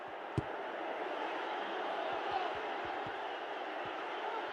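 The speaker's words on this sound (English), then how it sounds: "The crowd certainly think so. Just listen to them." A stadium crowd in the FC Mobile football game roars and cheers in a steady, dense wash of noise, with a commentator's voice speaking over it.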